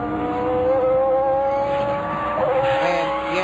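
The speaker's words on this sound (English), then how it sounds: "He just put out the brakes way too early" Prototype Challenge race car at the 12 Hours of Sebring endurance race, engine droning with a high tonal whine as it brakes hard, tires squealing briefly near the end, heard alone at moderate distance.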